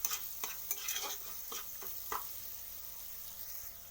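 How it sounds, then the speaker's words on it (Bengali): A spoon stirs cumin powder, Kashmiri chili powder and sugar frying in a pan for a Bengali moong dal with fish head, with quick scraping clicks up front, then a faint steady sizzle. "এটাকে আমি ভালো করে কষিয়ে নেব।"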